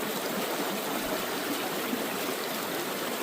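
Water trickling and washing out of a gold pan during panning, a steady close splashing rush with no pauses and no voices.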